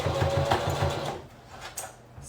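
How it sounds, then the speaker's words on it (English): A sewing machine runs a back stitch on an apron pocket, a close, rhythmic chugging hum for about a second that then stops, leaving a quiet room with faint handling sounds. "Starting and ending with a back stitch."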